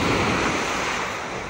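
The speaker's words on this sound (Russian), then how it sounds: "Волны, да, прикольно?" Sea waves surging and washing near a boat, a loud, close, steady rush of surf with a windy edge that fades slightly toward the end.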